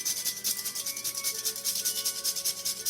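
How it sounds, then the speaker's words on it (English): A whole nutmeg is rubbed against a grater for coconut turnovers, giving a close, steady run of quick, raspy scraping strokes with no talking. "And also you're going to grate some nutmeg."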